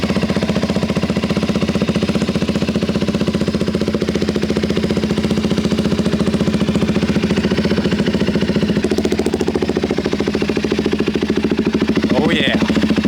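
A KTM 390 Adventure R motorcycle fitted with a budget aftermarket exhaust idles loud and close, a steady thumping single-cylinder putter with a brief rev near the end.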